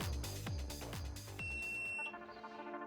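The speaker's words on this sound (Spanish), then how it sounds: "Pues con ese pitido de fondo comenzamos la incubación." An automatic 24-egg incubator beeps while its temperature rises, with repeated electronic tones ringing over a few dull knocks before trailing into a steady, quieter tone.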